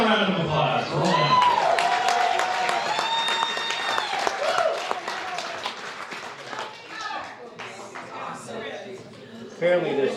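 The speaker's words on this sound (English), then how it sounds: "give a round of applause. Roland." Wedding reception guests clap in a room for about ten seconds, a steady, fairly loud patter with cheering and talk mixed through it, tapering slightly before a brief swell at the end.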